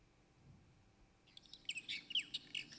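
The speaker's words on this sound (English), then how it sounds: "Oh, way easier. Birds." Recorded birdsong played aloud for a name-that-tune game at the Dutch Hall: a burst of bright, high chirps and tweets that starts after a second of quiet and repeats in quick, irregular calls at moderate volume.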